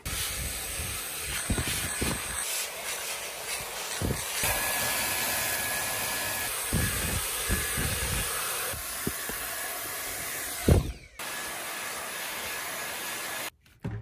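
A small household vacuum cleaning a car's carpet whirs steadily with a hissing, airy drone, its pitch shifting as it's pushed around, with brief bumps and a short cut-out near the end.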